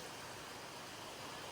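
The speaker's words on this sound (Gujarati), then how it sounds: "સારો એવો વરસાદ પડે છે" Heavy rain pours down in Modasa, a dense, steady broadband hiss filling the whole moment at an even level, with no voices.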